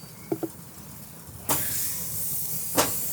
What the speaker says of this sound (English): I'm going to get some really nice char on the super hot grill.